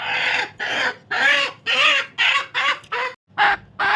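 A hen clucks and squawks in loud, agitated bursts while it is caught in a village yard, about eight harsh calls broken by short gaps, close and with no talk over them.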